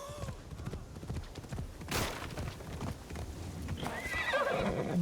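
A summoned horse in the game Assassin's Creed Shadows neighs and whinnies, followed by clip-clopping hooves, close and clear against faint background game sound.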